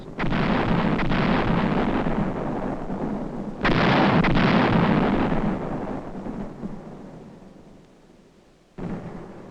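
An artillery barrage shelling enemy hill positions in the Korean War sounds as heavy, rumbling booms. Loud blasts roll and fade, a fresh one strikes midway, and a last burst comes after a quieter stretch, with no speech.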